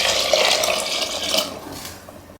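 Water is poured into a cooking pot while making mushroom biryani, a close, bright splashing gush that runs steadily for about two seconds, then tapers and stops abruptly.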